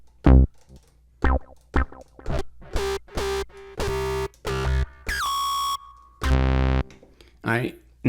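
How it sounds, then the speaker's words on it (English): Bassline synthesizer plugin played on an MPC Live: a run of short, buzzy, distorted synth notes, some clipped and some held, with pitch steps, a gliding note and pauses between phrases. No talking. "and then I can actually play this synthesizer"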